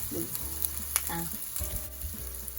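Palm sugar melting in a hot pan gives a soft, steady sizzle with faint crackles, a few light scrapes and stirring clicks, quiet and close.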